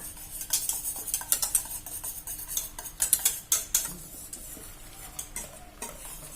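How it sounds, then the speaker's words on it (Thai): Green tea custard is stirred continuously in a pan on the stove over medium-low heat, a spoon scraping and clinking against the pan in quick, uneven strokes, close and fairly clear, with no talk. "ก็ให้คนอย่างนี้นะคะ เนื้อ เนื้อสังขยาเราก็จะเนียนค่ะ"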